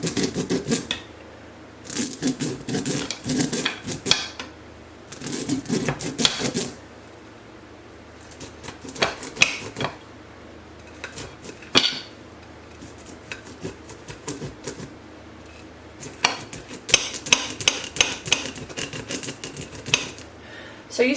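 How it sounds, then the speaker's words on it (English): Back of a knife blade scraping fresh corn kernels off the cob in a kitchen for skillet creamed corn, several bursts of rasping scrapes separated by quieter pauses, close and fairly soft. "take the back of your knife, and you just want to scrape the corn like that"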